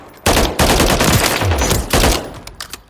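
A G36 rifle fires in Call of Duty Modern Warfare III, loud and close, in sustained automatic bursts with a brief break before a second burst, then tailing off into a few scattered shots.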